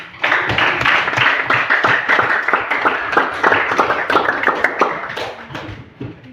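Applause from a group during a classroom counseling training session, many hands clapping in a dense, steady patter that stays loud throughout and tapers slightly at the end.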